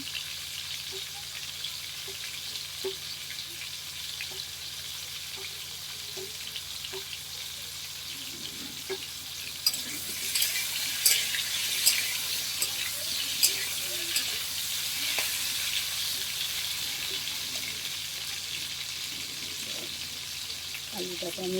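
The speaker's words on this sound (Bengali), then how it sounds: "এরপর আলুগুলোকে ভালো করে ফুটিয়ে নেব তেলের মধ্যে" Potatoes frying in hot oil give a continuous close sizzle and bubbling that grows busier and louder partway through, with scattered stirring knocks and faint voices under it.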